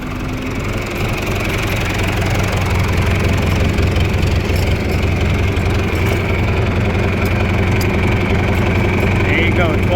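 A John Deere 2350 tractor engine idles steadily up close, a loud continuous rumbling drone with a constant, even texture throughout, no pauses or speech over it.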